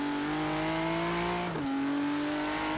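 Ford GT engine in the Forza Horizon racing game, a sustained high engine drone holding pitch, briefly dipping and shifting as it changes gear midway, then carrying on steadily, close and loud with no talk.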